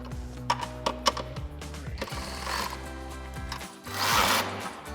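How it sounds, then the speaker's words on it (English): A hand ratchet with a 13mm socket tightens bracket mounting bolts for fender flares on a Jeep Wrangler JL, giving close, rapid clicking strokes in uneven bursts with brief pauses. "we're going to tighten down our bracket mounting bolts"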